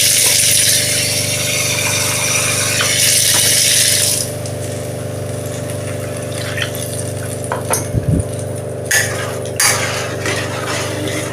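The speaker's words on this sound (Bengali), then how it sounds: "এবার আমি এখানে একটু জল দিয়ে দিলাম।" Water is poured into a pan of Foli fish curry with spiced masala, potato and green papaya, a loud rushing splash for about four seconds before settling into a steady low hum with a few small clinks.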